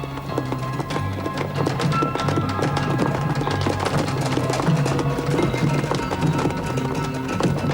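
Cartoon horse hooves gallop in a quick, steady clip-clop rhythm, moderately loud and close, running continuously over a busy animated soundtrack with music underneath.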